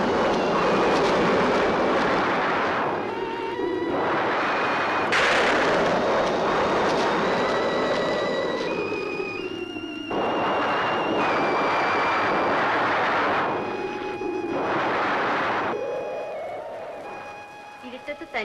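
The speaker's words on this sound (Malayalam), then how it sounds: "ഇടിയും മഴയും വരണുണ്ട്" Deep, loud thunder rolls in long repeated waves as rain approaches at night, each rumble swelling and fading, with sustained musical tones layered over it.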